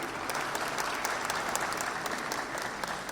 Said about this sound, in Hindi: इनकी सिनेमाई कलात्मकता के लिए जोरदार तालियां